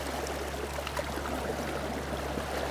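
Steady rushing and gurgling of river current flowing around wading fly-fishing anglers, a continuous close broadband wash with no talk.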